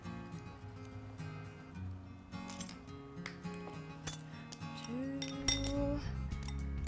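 A utensil scraping and clinking against a container of raw honey, light metallic taps and scrapes, close but fairly quiet under soft background music.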